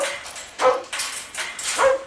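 Dog barking in short bursts mixed with whimpers and yips, several loud close calls over about two seconds with no talk.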